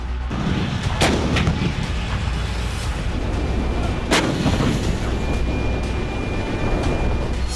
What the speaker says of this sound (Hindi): M109A6 हॉवित्जर से 155 mm की हाइपर वेलोसिटी शेल निकली